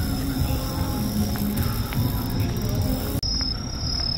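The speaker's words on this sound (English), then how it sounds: "Already cricket sounds for fall time, even though it's really hot today." Crickets chirp at night in an outdoor area between luxury shops and restaurants on Jeju Island, a continuous high, steady trill over faint background hum, with a brief dropout near the end.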